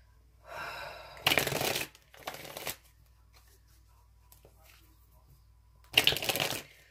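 Tarot cards are shuffled in two quick riffling bursts, one near the start and another toward the end, with a softer slide between them and quiet pauses around.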